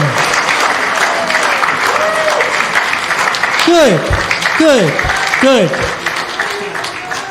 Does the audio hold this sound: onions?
no